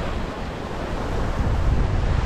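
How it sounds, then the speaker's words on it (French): Cool mid-May wind blows outdoors at sea aboard a sailing boat off Le Marin, a loud, steady rushing buffet against the microphone with a wash like surf beneath it, no voices. "Avec le vent."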